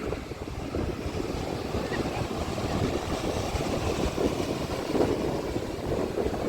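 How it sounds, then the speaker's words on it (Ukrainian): Strong, cool wind buffets the microphone in a steady low roar with gusts, with a faint murmur like distant ocean surf underneath, at Lagoa de Albufeira, Portugal. "відчутно такий досить сильний прохолодний вітер"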